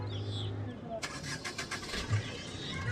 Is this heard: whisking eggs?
no